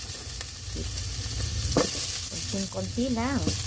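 Garlic sizzling in a small amount of coconut oil, a steady broadband hiss throughout with a few light clinks, while a person speaks briefly near the end.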